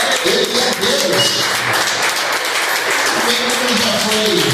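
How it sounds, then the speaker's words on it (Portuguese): A church congregation in São Paulo applauding steadily, a dense patter of many hands clapping throughout, with voices mixed in the room. "Pode aplaudir, porque ele merece."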